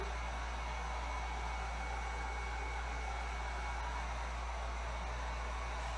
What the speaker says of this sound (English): I would let this fully dry before taking a heat gun, but since we're doing a video, we're gonna dry this as quick as we can